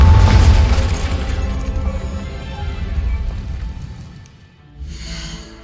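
A Confringo explosive spell detonates in Hogwarts Legacy with a heavy, loud boom up front, then a long rumbling decay that thins out before a brief, brighter crackling burst near the end.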